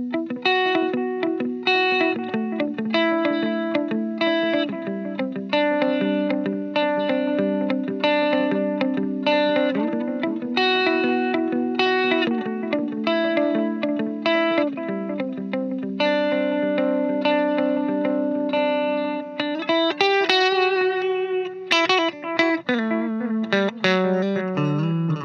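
Gibson Custom Shop Vivian Campbell Les Paul Custom electric guitar played with a clean, effected tone, sustained chords and picked notes ringing continuously and loudly with a shimmering, chorus-like wash throughout.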